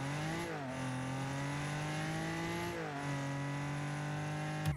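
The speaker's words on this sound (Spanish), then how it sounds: "Y el sonido, pues el del carro." A Nissan Z Performance car engine in the Rocket League video game drones in a steady, sustained tone, dipping briefly twice as the revs shift before climbing again, with a sharp click at the very end.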